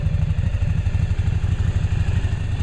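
A Yamaha Virago motorcycle engine with newly installed carburetors runs at a steady idle close up, a fast even low thump throughout with no voices.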